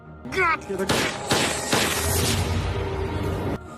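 A rapid burst of loud gunshots cracking in quick succession, followed by a rumbling wash of noise and a brief voice at the start.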